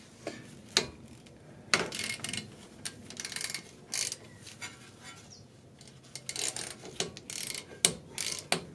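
A 14 mm ratchet socket wrench clicks on a brake caliper bolt of a Lincoln Town Car, giving sharp metallic ticks and short ratcheting bursts at irregular intervals, close up and fairly quiet, with no talking.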